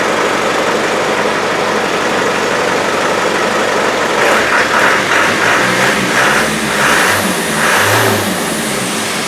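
A Land Rover 110 engine with no air cleaner revs up and down in repeated bursts over a steady rough idle, loud and close, with a raw, unmuffled intake roar.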